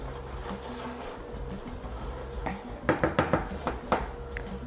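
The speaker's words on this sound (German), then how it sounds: "So durchrühren." Spoon clinking against a pot while lime juice is stirred into a warm pumpkin and coconut-milk dessert, with a handful of sharp metallic taps clustered near the end over a low background hum.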